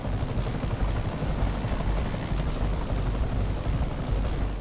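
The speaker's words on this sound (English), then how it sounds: "They have a helicopter. Gotta move." A helicopter in a Spider-Man video game thunders with a loud, continuous rotor roar, dense and close, with a thin high whine running through the middle of the stretch.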